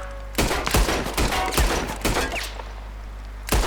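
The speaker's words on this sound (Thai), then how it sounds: "มึงยิงนัดเดียวแม่งเปิดได้เลยเหรอ" Rapid gunfire from the game Red Dead Redemption 2, a burst of about six sharp close shots in quick succession, then a pause before one more loud shot near the end.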